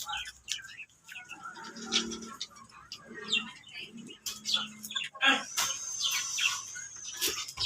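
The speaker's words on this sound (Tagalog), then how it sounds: "So yung mga ibon natin dito mga tol." Pet birds kept in a cage chirp and coo in short scattered calls, near and moderately loud, with bits of rustling between them.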